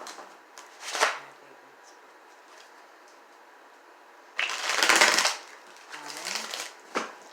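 Tarot cards being shuffled by hand, several short papery riffling bursts of varying length, close and moderately loud, separated by quiet pauses.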